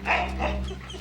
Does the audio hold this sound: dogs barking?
yes